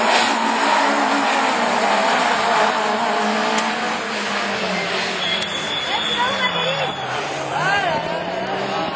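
Super 1600 rallycross car pulling away at a race start in the French championship at Châteauroux, loud engine revving and accelerating continuously under excited commentary.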